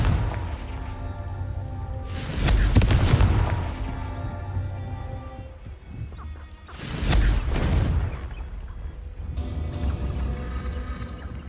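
Confringo blasting spell explosions in the Hogwarts Legacy wizard game near a castle, two heavy booming blasts several seconds apart, each with a roaring crash and decaying rumble over low background music.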